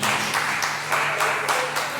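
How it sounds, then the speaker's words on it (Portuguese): A church congregation claps in a quick, fairly even rhythm, many hands striking together with regular beats close by, while a faint low tone hums underneath. "Quantos poderiam aplaudir o Senhor Jesus neste momento?"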